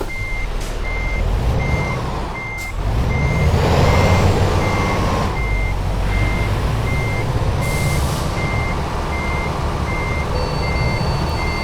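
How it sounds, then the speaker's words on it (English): A heavy truck hauling a 70-tonne load reverses in Euro Truck Simulator 2, steady reversing beeps repeating at an even pace over a loud, continuous engine rumble with an air-brake hiss partway through. "I'm just reversing."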